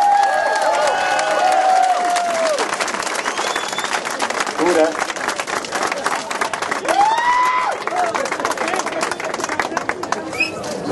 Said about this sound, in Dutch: Ik denk dat er een geweldig applaus mag komen.